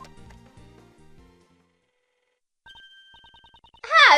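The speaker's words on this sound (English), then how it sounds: "Judge Courtney's cell phone is ringing." A judge's cell phone rings in the video game Ace Attorney Investigations: Prosecutor's Path, a series of short repeated electronic beeps following a fading musical phrase and brief silence, ending in a louder burst.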